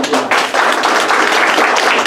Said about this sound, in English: A huge round of applause for this.